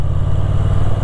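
A Moto Guzzi V7 Sport motorcycle engine revs steadily and loudly up close, a continuous deep throbbing drone with a pulsing low beat and no pauses.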